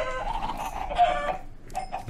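Chickens in the video game Minecraft cluck in a short, close burst of several quick calls, heard alone without talk.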